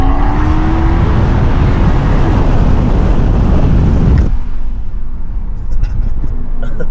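A BMW X5 M50i's loud, rumbling Valvetronic exhaust roars steadily with valves open, then drops to a lower idle growl with faint voices nearby.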